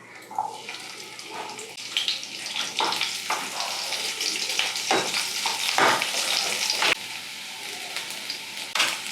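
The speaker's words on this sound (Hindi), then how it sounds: "तेल यहाँ गर्म हो चुका है, तो अब हम इसमें कटे हुए प्याज को डाल देंगे।" Chopped onions frying in hot mustard oil for a bamboo shoot fry, a steady close sizzle and crackle with occasional stirring scrapes, no voices.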